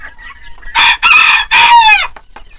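Backyard chickens fed by their keeper give out a loud, close rooster crow split into three strong bursts, with clucking in the gaps and no talk over it.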